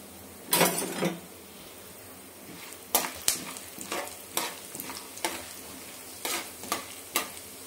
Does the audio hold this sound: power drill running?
no